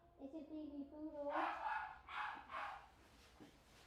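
Small poodle puppy giving a few high, soft yips and whimpers, close by, followed by brief bursts of nearby talk in a grooming salon.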